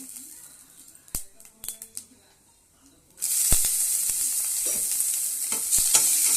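Whole spices (cinnamon, clove, bay leaf and fennel) drop into hot oil and burst into a loud, steady sizzle after a few quiet clinks and taps, the frying continuing close up with occasional crackles.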